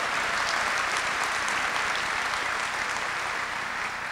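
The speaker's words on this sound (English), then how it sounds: "To all our inductees, what an impressive group, aren't they? Let's give them a round of applause." Sustained, dense applause from a large audience at the National Women's Hall of Fame induction ceremony, a steady wash of many hands clapping at even loudness throughout.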